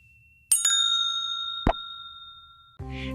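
A bright notification bell rings twice in quick succession and leaves a long ringing tone, followed by a single metallic clink and a short chime-like tone at the end.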